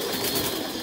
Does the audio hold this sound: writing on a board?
no